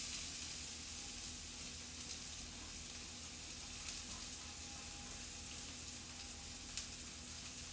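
Onions sizzle and fry steadily in a cast iron skillet for a frittata, a continuous close crackling hiss with faint stirring and no talk.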